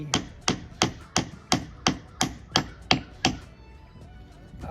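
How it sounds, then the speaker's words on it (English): A block of wood tapping a boat's propeller hub cone off its shaft, nine sharp, evenly spaced knocks about every half second, close and clear with no talking. "Using a block of wood, you can tap the hub cone"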